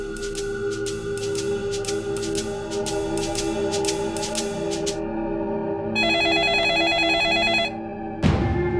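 A telephone rings with a repeated electronic bell pattern in bursts, followed by a higher beeping ring tone, heard during an outgoing call over a steady background hum.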